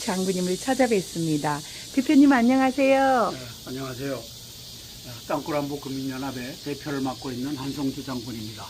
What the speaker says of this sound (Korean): 오늘도 매미 소리 들리는 이곳 야외로